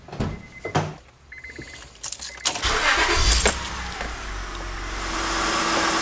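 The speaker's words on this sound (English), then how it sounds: "Step one is gonna be to start the engine." A few close clicks and a short jingle of keys, then a car engine cranks and catches, settling into a steady idle.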